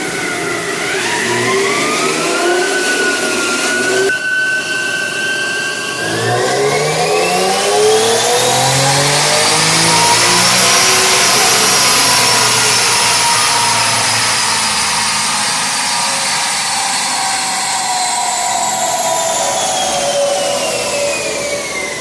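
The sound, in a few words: Infiniti G37 engine revving during dyno run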